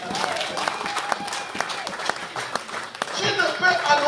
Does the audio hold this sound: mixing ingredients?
no